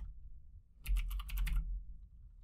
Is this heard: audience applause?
no